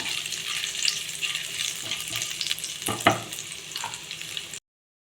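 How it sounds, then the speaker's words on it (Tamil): Ginger sizzling and frying in hot oil for a dhaba-style makhana gravy, a steady crackling hiss with a few stirring scrapes, close and continuous before stopping abruptly. "இஞ்சி சேர்த்தாச்சு நல்லா இஞ்சி வந்து நல்லா பொரியட்டும்"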